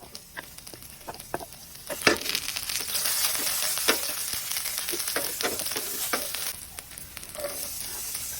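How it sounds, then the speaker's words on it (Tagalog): Garlic sautés in a pan for a stuffed squid filling, with a steady sizzle that swells partway through and sharp clicks of stirring scattered over it. No one speaks. "Nagisa tayo rito ng bawang."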